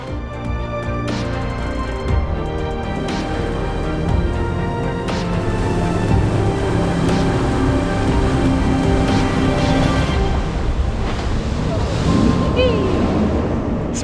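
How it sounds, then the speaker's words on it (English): Jet boat racing up a shallow, stony river, a loud continuous engine and water-jet roar with rushing water and wind buffeting close to the microphone, steady throughout with some fainter voices underneath. "the speed of a jet boat ride up the river first"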